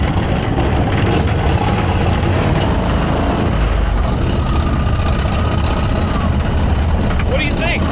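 A turbocharged lawn mower engine fitted in a VW Beetle runs steadily, a constant loud rumble with a faint high whine on top, and voices talk over it throughout.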